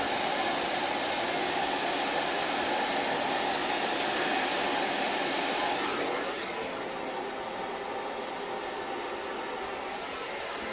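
Hair dryer blow-drying hair over a round brush, a loud continuous whoosh of air that drops to a softer level about midway, steady with no voices.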